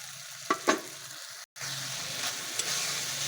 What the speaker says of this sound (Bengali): সব মশলা ভালোভাবে কষানো হয়ে গেছে।